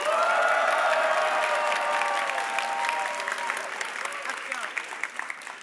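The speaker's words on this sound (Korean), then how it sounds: "그때 여러분이 박수와 환호성을 보내주셔야 되는데" A church congregation bursts into applause and cheering during a Thanksgiving Sunday service, starting loud with vocal whoops and then tapering into scattered clapping that fades.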